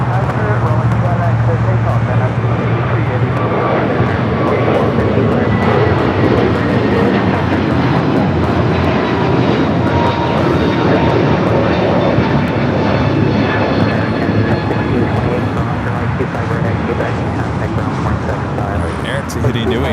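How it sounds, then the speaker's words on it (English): A United Airbus A321neo jet takes off at LAX with a loud, steady, close engine roar that holds unbroken and fills the whole stretch. "Next takeoff, United A321neo."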